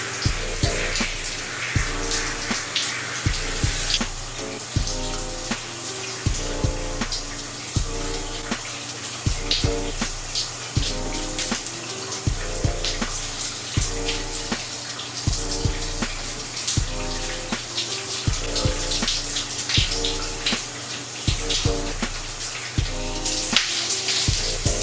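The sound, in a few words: shower water running while rinsing hair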